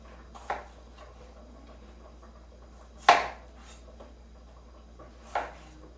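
A knife cuts through unpeeled Yukon Gold potatoes on a cutting board, three sharp, separate chops spaced a couple of seconds apart against a quiet kitchen background.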